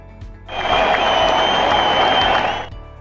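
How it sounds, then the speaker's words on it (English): A basketball crowd erupts in a loud, sustained cheer and applause after a game-winning shot in a film scene, swelling abruptly, holding for about two seconds, then cutting off. "you can infer that he made the shot based on the reaction of the crowd"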